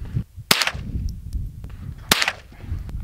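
Two sharp .22 Long Rifle gunshots, full metal jacket rounds fired into a block of bubble gum outdoors, each a loud crisp crack with a short tail, about one and a half seconds apart.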